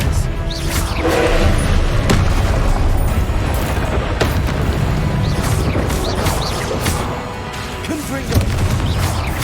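The Confringo explosive spell being cast in Hogwarts Legacy: booming blasts and crashing impacts over dense game-battle noise, loud and close, with a sharp bang near the end.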